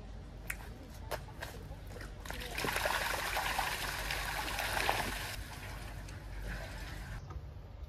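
Water sprays and trickles at a portable toilet rinsing station, with scattered drips and splashes giving way to a louder, steady gush that runs for several seconds before easing off.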